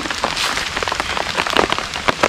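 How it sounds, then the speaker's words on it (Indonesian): Steady heavy rain pattering on a surface during an outdoor spicy eel meal, a dense continuous hiss with scattered drop impacts, close and fairly loud, with no voices. "Lagi hujan basah tuh."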